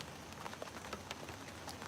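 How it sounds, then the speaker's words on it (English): Rain falls steadily outside a window by a garden deck, a faint, continuous hiss with scattered soft droplet taps and no voices. "The rain is coming down."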